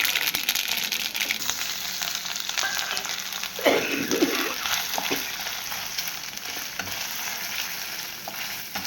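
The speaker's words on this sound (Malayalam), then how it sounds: "തേങ്ങ കൊത്തി വറുത്തിടണം" Chopped coconut pieces frying in a pan while making kootu curry, giving a steady, close sizzle throughout with a brief burst of louder crackling and stirring in the middle.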